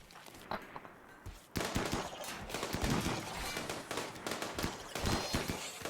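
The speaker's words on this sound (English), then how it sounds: "Stop shooting through other people." Rapid gunfire from colonists shooting bugs in the video game Rimworld, bursts of sharp cracks that start sparse, then turn dense and continuous, with overlapping volleys.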